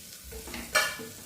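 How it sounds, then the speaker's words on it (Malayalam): Chili, turmeric, coriander and garam masala powders sautéing in a pan, a brief soft sizzle with a single scrape of a spoon stirring, close and alone. "മുളക് പൊടി, മഞ്ഞൾപ്പൊടി, മല്ലിപ്പൊടി, ഗരം മസാലപ്പൊടി. ഇതൊന്ന് വഴറ്റിയെടുക്കാം."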